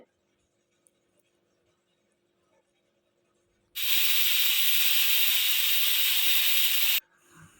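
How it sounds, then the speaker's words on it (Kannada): A pressure cooker lets off a loud, steady steam hiss for about three seconds mid-clip, with quiet kitchen sounds before and after, while sambar made with cauliflower and field beans cooks under the closed lid. "ಕುಕ್ಕರ್ ಮುಚ್ಚಳನ ಕ್ಲೋಸ್ ಮಾಡಿಬಿಟ್ಟು ಇವಾಗ ಒಂದು ಮೂರು ವಿಷಲ್ ಕೂಗಿಸ್ಕೊತೀನಿ"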